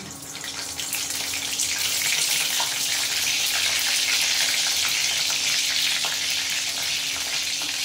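Bay leaves crackle and sizzle in hot ghee in a pan, a loud, steady frying hiss that builds in the first second and then holds, with no voices.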